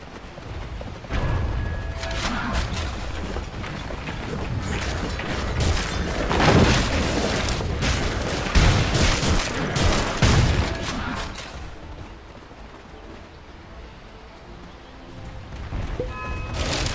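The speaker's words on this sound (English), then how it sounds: "Dire's top tower is under attack." Dota 2 combat as Dire's top tower comes under attack during ranked Lycan gameplay: dense, loud layered impacts, booms and crackling fire for about eleven seconds, then a quieter stretch before the clashes pick up again.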